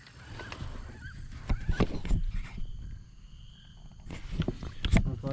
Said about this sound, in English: Look like some ducks.